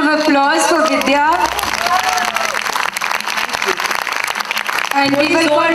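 Audience applause for an actress at an IFFI 2023 in-conversation session, a dense wash of clapping through the middle of the clip, with a speaking voice and vocal sounds at the start and end.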